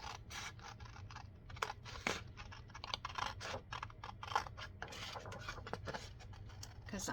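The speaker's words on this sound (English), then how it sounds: "Let me cut this one out." Scissors cutting out a paper book-page piece for a junk journal: a steady run of soft, close snipping and paper rustling with small scratchy clicks, quiet and continuous throughout.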